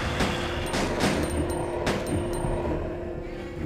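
Gunfire in Resident Evil 2, several sharp shots spaced irregularly over a steady game background, loud and close, with no talking.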